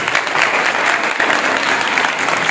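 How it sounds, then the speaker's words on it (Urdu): An audience at a Rawadari Tehrik conference in the Gujranwala Arts Council claps loudly and densely in sustained applause that fills the hall. "آپ کی بھرپور تالیوں سے ایک دفعہ پھر ان کا شکریہ ادا کیجیے"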